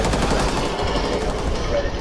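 Tachanka's LMG fires in Rainbow Six Siege as a loud, sustained, rapid burst of automatic gunfire that runs unbroken through the whole stretch, close and dominant.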